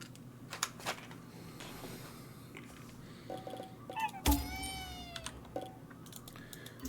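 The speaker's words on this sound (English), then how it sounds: "those cats, the new ones are loud." Cats meowing in Ghostwire Tokyo: several loud, drawn-out meows over faint game ambience and clicking, with one especially strong yowl in the middle, and no talking.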